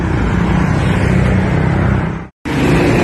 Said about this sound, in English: And the traffic's building up